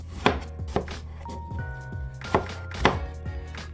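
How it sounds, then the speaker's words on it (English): A knife chops through apples on a cutting board for homemade applesauce, with several sharp, close thuds in an uneven rhythm and a faint tonal ring partway through. "Once you have all of your apples chopped"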